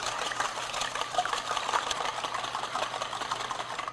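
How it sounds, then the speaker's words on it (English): Wire whisk beating two room-temperature eggs in a bowl, a fast, continuous rattling clatter of metal against the bowl, close and even throughout. "I'm just using a wire whisk, break them up"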